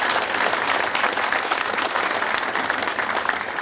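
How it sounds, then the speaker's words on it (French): Audience applause for round-table guests at a business network event, a dense, steady wash of clapping that holds loud and even throughout without voices. "Vous partagez vos applaudissements avec nos invités à la table ronde"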